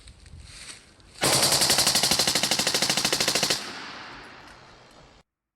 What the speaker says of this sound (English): And these are for real. Let's shoot this thing.